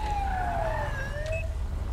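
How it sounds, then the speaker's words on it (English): Police car siren in the video game GTA 5, a wailing tone sweeping down and back up, loud and continuous over a low engine rumble, with no talk. "And turn off the siren."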